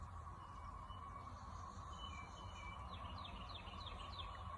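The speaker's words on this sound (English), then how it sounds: "And I hear highway noises too, and the birds singing." Birds chirp faintly in short, repeated calls outdoors over a steady cicada buzz from the trees, with distant highway noise underneath.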